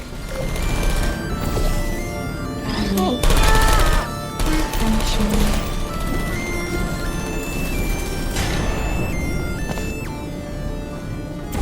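Turrets firing bullets in Portal 2, rapid machine-gun bursts with sharp impacts and crashes, loud and close, stopping and restarting in clusters, with a voice heard amid the gunfire.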